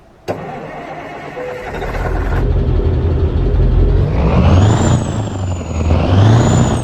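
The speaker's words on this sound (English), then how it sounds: "now we get to see what it or hear what it sounds like when we start up the new Mac engine" A Mack truck engine in American Truck Simulator cranks with a sharp click and starter whir, then catches into a deep diesel idle that rises and settles, with a thin turbo whistle sliding up and down over the rumble.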